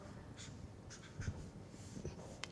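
Chalk or marker writing on a board during a lecture, soft scratchy strokes in short bursts at low volume, with quiet breathing in a still room.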